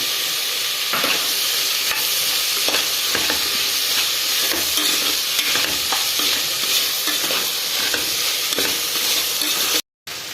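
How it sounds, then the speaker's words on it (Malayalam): Tomatoes and coriander leaves sauté for a green peas curry, a loud steady sizzle and hiss with repeated stirring scrapes in the pan, briefly cutting out near the end. "ഇതെല്ലാം ഒന്ന് നന്നായി ഒന്ന് വഴറ്റിയതിന് ശേഷം"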